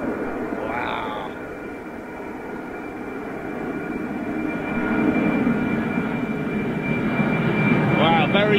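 A jet airliner takes off from Gatwick Airport on a reduced-thrust departure, a broad, building engine roar that grows louder over several seconds, heard from a distance with people talking nearby.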